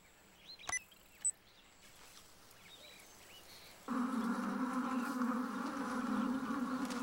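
Angry, swarming honeybees played back through a loudspeaker outdoors: a dense, steady buzzing drone that switches on abruptly partway through and then holds loud and unbroken, after a few brief faint bird chirps.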